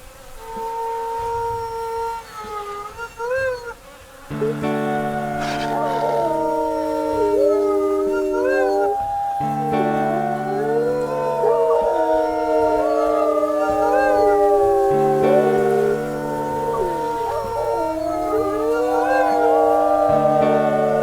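Several wolves howl together in long, overlapping wavering tones, loud and sustained, with a steady droning hum beneath, in the video game WolfQuest: Rising Hope.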